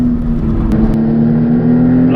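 Maserati MC20 sports car on a race track, its engine droning loud and steady under power with a constant tone, close and continuous.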